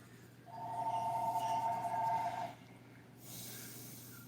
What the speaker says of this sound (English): And yes, that was actually a house phone.